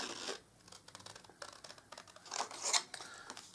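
Paper recipe card bunting snipped with scissors, a run of short, crisp cuts and snips at close range, with brief rustles of the card between strokes and no voices.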